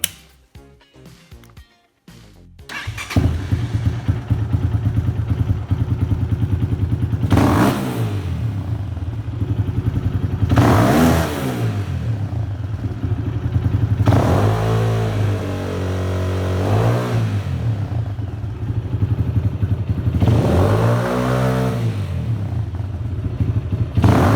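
A motorbike fitted with a Nibbi PWK34 carburetor, checked for a sticking throttle, starts with a clattering crank and then idles loudly and close. Several rising revs surge and fall back to idle.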